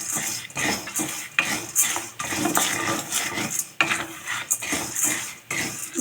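Sago pearls (sabudana) dry-roast in a pan, stirred with a utensil, making continuous light rattling and scraping with small clicks and faint crackle, close and moderately loud.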